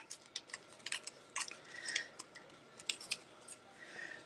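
Scissors snip paper scrapbooking pieces for an ocean-themed layout, a quick run of crisp, close cuts with short pauses between them.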